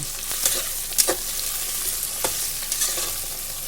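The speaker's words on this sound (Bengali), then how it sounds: "পেঁয়াজটা দিয়ে এর মধ্যে ভেজে নেব গরম তেলে পেঁয়াজটা দিয়ে দিলাম" Onions frying in hot oil for a mutton curry, a steady hiss of sizzling with a few brief clinks and scrapes of stirring, close and alone without talk.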